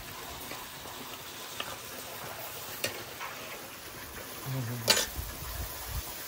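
Goat offal (vajri), cooked Kolhapuri style in a pan over a wood-fired stove, gives a steady low sizzle and hiss, with a few small clinks and one sharper clatter of utensils.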